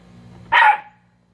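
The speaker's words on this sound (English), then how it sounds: "That's my dog Toby." A dog named Toby gives a single short, loud bark close by, with a low hum beneath and quiet afterwards.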